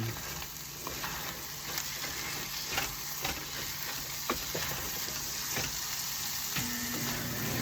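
Corned beef and potatoes fry in a pan with a steady, dense sizzle and occasional sharp scrapes of stirring, continuous and close without any talk.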